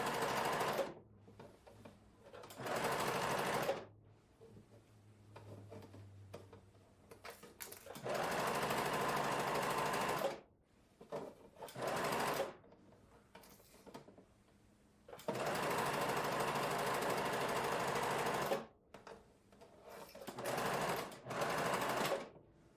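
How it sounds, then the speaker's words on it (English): Sewing machine running in long bursts while stitching the seams of wide leg pants, steady buzzing runs of several seconds separated by short pauses, close and fairly loud with no talking. "we'll start sewing, and we'll start in the front crotch or the back crotch, and we go all the way round"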